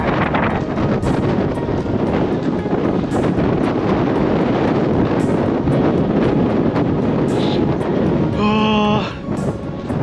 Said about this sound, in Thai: ลมมันแห้งบวกใส่อากาศหนาว